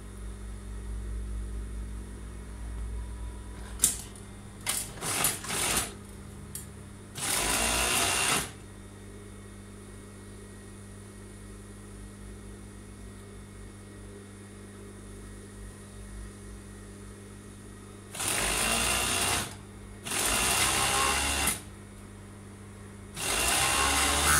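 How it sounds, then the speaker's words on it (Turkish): A home sewing machine stitches the side seam of a pencil skirt in several separate runs of fast, steady whirring, each lasting a second or two. A low quiet hum fills the pauses between runs. "Bu şekilde dikiyoruz. Diğer yanını dikiyorum."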